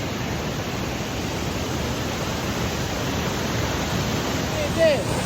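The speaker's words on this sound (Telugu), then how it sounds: "ఫ్లోయింగ్ అవుతుంది వాటర్" Waterfall water at Paderu pours in a broad, steady roar of rushing water, dense and unbroken throughout, with no clear voices over it.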